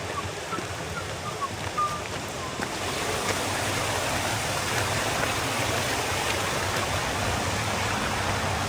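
Water rushing steadily over rocks in a mountain stream in Snowdonia, a constant broadband wash that swells slightly louder partway through, with rain-like hiss around it.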